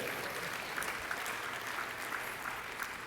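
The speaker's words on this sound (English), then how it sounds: "let's have a nice round of applause for the real sport here" A Hall of Fame induction audience breaks into steady, dense applause that stays level throughout.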